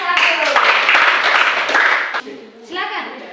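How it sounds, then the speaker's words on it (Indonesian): Clapping from a class of schoolchildren applauding a group, a dense burst of many hands at steady loudness for about two seconds, then tapering off as children's voices chatter alongside. "tepuk tangan untuk kelompok"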